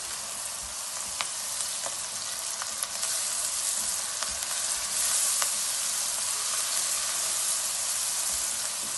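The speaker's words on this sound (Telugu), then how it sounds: "ఒక చెంచాడు అల్లం వెల్లుల్లి పేస్ట్, ఇదంతా పచ్చివాసన పోయేదాకా మగ్గించుకోవాలి" Ginger garlic paste sizzles steadily in a pan for a pumpkin curry, a dense hiss with a few faint clicks and no voices.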